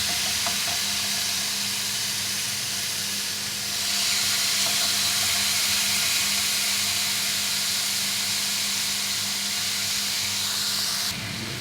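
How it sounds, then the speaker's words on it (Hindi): Chicken pieces for pepper steak sizzle in an oiled pan with a steady, close hiss that grows louder partway through and stays even, with no voices. "इसके बाद हम अपने चिकन के पीस इसमें डालेंगे।"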